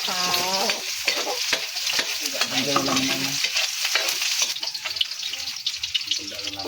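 Onions sizzle as they are stir-fried in a pan for a dish with upo, a loud continuous frying hiss broken by scraping stirs, with someone talking over it.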